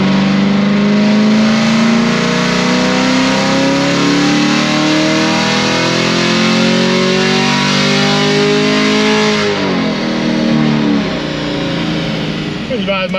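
A car engine on a dyno revs hard and steadily under load, rising in pitch through a long pull before the throttle lifts and it drops back, then it climbs again near the end.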